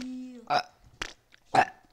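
Burp-like bursts with a voice imitating eructation during a Latvian Minecraft let's play, three short throaty sounds spaced about half a second apart, loud and close, following a sustained hummed tone.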